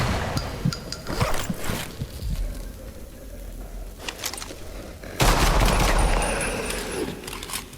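Video game gunfire as a full magazine is dumped, with rapid bursts of loud automatic shots, a lull, then a heavy sustained volley near the end.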